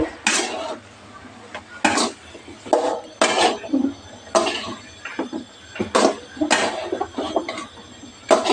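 A metal spoon stirs sixty-five masala into a cauliflower gravy in a pan, giving repeated sharp clinks and scrapes against the metal in an uneven rhythm with short pauses between strokes.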